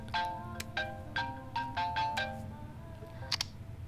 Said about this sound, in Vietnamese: Điện thoại của cô.